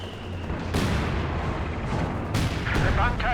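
A grenade explosion from the WWII strategy game Company of Heroes 2, one sharp close blast with a second burst shortly after, both over continuous battle rumble and distant gunfire.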